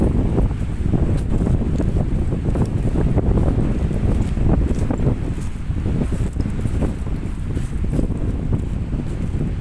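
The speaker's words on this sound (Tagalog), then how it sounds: "kaya medyo malakas yung hangin" Strong wind roars steadily and loudly, buffeting the microphone with constant gusts and no voices.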